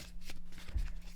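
A quick riffle of tarot cards being shuffled, a short burst of papery flutter and snaps, close up.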